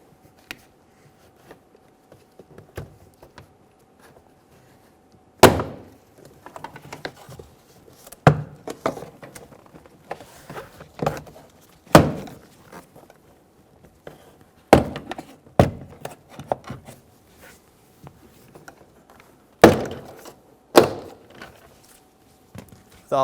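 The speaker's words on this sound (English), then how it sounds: "Using a plastic trim tool, we're going to get behind the door card and pop all of the clips around the door" Plastic trim tool prying a BMW 328i door card, popping its retaining clips one after another: sharp isolated snaps and knocks scattered irregularly across a quiet background, close and fairly crisp.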